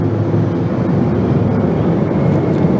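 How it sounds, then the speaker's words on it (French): Three helicopters of a presidential escort pass during an outdoor parade, a loud steady low rumbling drone of rotors and engines that fills the whole stretch without a break. "c'est 3 hélicoptères qui viennent encore de passer"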